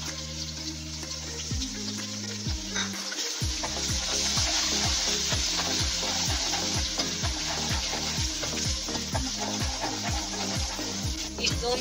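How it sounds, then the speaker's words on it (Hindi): Onions with garlic-ginger paste fry in a pan for a fish curry, a steady broadband sizzle running throughout under a rhythmic low musical background, with no talking. "इस 2 मिनट तक इसको अच्छी तरह से भून लेंगे।"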